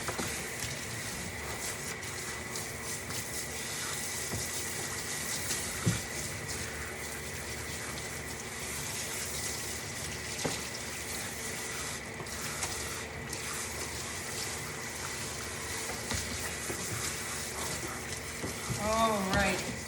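Running water rinses shampoo out of a dog's coat, a steady broadband spray and patter that continues for the whole stretch, close and moderately loud, with no talking.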